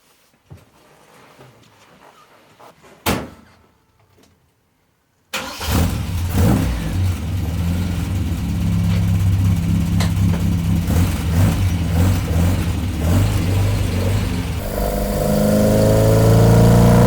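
An MGB 1800 engine with a Weber carburetor and T9 five-speed fires up after a quiet stretch and a single sharp click, then settles into a loud, close, throaty run that climbs into a rev near the end.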